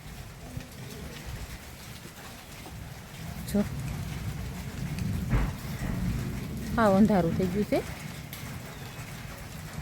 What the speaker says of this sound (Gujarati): દીદી કેવો વરસાદ, મોટા મોટા છાંટા આવે ને